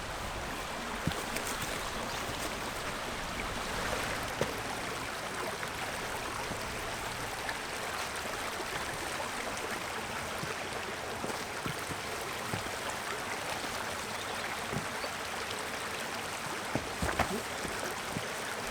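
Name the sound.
small waterfall cascade on the Caerfanell River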